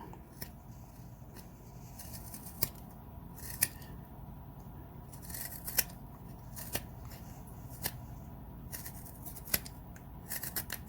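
A knife whittles and rounds a wooden owl carving, making soft scraping and crisp snicking cuts in an irregular series of close, quiet strokes with no talking.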